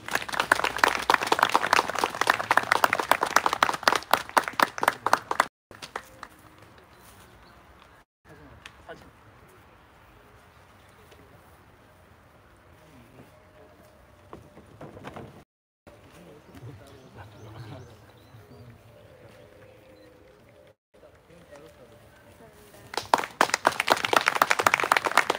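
Applause from the audience at a memorial ceremony for a late activist, dense and loud at the start for about five seconds, fading to a quieter room, then swelling again near the end.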